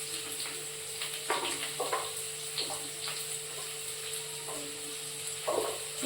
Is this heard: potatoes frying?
yes